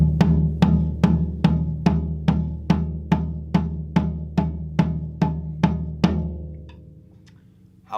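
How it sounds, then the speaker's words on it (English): Even 16th notes struck on a floor tom-tom, a long run of evenly spaced resonant thuds at a steady pace, each decaying into a low boom, ending with a fading ring and a final faint knock. "If we take a sequence of 16th notes just played evenly on the floor tom-tom"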